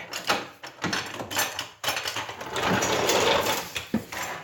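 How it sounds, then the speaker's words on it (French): A car jack is lowered under a Mazda Miata, with close, irregular mechanical clicks and ratcheting clunks in uneven bursts, then a longer steady rustling scrape. "Fait qu'on va descendre le jack."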